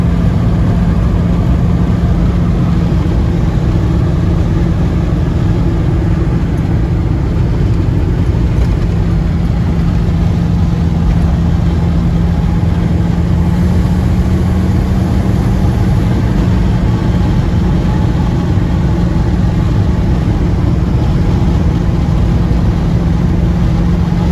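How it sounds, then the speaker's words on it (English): Old Holden HJ ute cruising down a dirty, dusty road, its engine droning steadily and loudly from inside the cab for the whole stretch, with no voices. "Driving an old Holden ute down a dirty, dusty old road."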